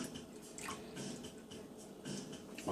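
Lemon juice pours into a container of water with a faint, steady trickle and light splashing, quiet and close, with a few small drips breaking through.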